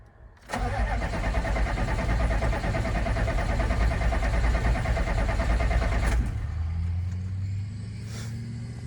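A 6.5L turbo diesel engine with a remanufactured injection pump cranks briefly, catches, and roars to a loud steady run for several seconds before settling to a quieter rough idle.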